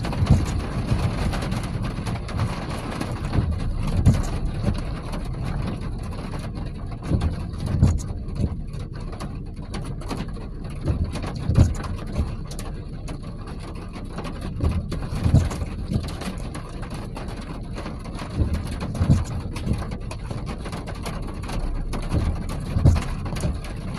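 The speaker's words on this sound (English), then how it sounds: "Getting some bigger raindrops." Heavy summer storm rain in Wisconsin, with bigger raindrops pattering steadily under a low rumbling background, a dense even wash of sound with occasional louder spatters.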